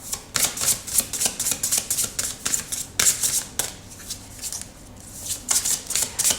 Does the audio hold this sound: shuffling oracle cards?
yes